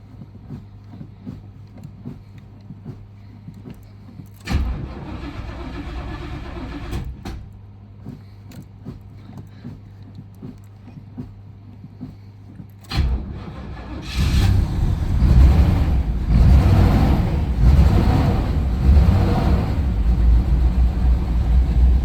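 A Chevrolet Camaro engine cranks in short bursts, then catches at about 13 seconds and settles into a loud, steady, rumbling idle nearby.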